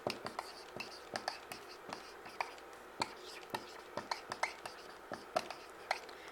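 A pen writes by hand on paper while notes are explained, giving a series of short, crisp scratching strokes at an uneven rhythm. The strokes are close and fairly quiet, with faint breathy vocal sounds in the background.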